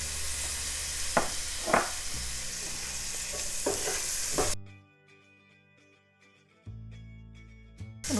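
Tomatoes hit a hot pan for poha and fry with a loud, bright sizzle while being stirred, scraping clicks scattered through it; the sizzle suddenly drops out midway, leaving near quiet, then resumes softer at the end.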